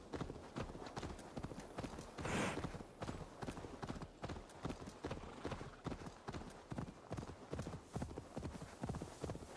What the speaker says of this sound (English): I guess I didn't have to ride my horse all the way over here.